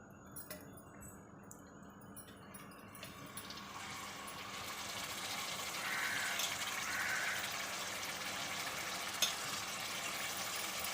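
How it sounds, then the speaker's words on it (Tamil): Ground masala paste sautés with onions in a pan for prawn biryani, giving a faint, steady sizzle that grows slightly louder partway through. "இது வந்து பச்சை வாசனை போக நம்ம நல்லா வதக்கிக்கலாம்"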